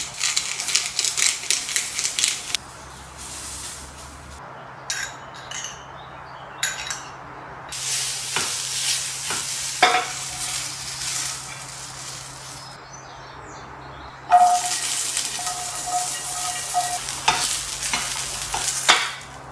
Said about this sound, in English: stir frying red and yellow peppers which are cut lengthwise